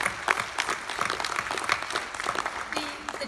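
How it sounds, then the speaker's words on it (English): Audience applause at a science journalism conference session on the Moon and space exploration, a steady burst of clapping from a crowd filling the room for a few seconds. "a round of applause for Jesus"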